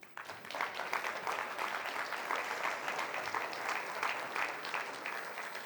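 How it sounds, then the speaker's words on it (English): Steady round of audience applause at a technology conference opening ceremony, a dense sustained wash of many hands clapping for several seconds at moderate loudness. "This is a time for a round of applause."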